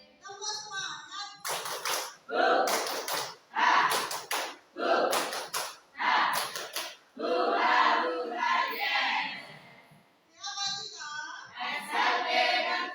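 A school group performs a tepuk semangat chant, sharp rhythmic claps in bursts alternating with loud shouted chanting, all close and energetic.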